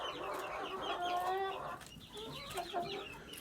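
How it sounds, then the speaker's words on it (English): Rooster clucking and calling in a farm flock, a run of short raspy clucks with a tonal crow-like note midway, followed by softer scattered clucks from several birds nearby, no talking. "I think he's a rooster too."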